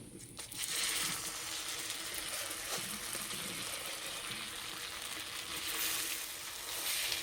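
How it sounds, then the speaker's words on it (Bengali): Milk halwa is stirred in a kadai, giving a steady, dense, close wet churning and scraping that runs without a break, with no talking. "ভালো করে মিশিয়ে একটু নাড়াচাড়া করে নিয়েছি"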